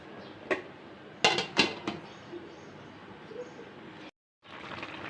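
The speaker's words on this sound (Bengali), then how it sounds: "এই মাছগুলো দিয়ে এখন ঢাকনা দিয়ে আমি ঢেকে দিব" A metal lid clatters onto a pan of simmering fish curry in a home kitchen, a few sharp close clinks in quick succession followed by a soft background hiss.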